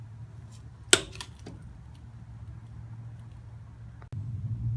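A Harbor Freight or Mastercraft click-type torque wrench snapping at its set torque, one sharp close click followed by a quieter second tick, over a low steady hum.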